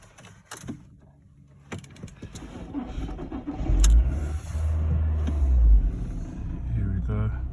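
A 2004 Seat Ibiza 1.4 automatic starts up, with clicks and a short crank before the engine catches into a loud, low rumble that settles into a steady idle, close by and with a voice briefly heard.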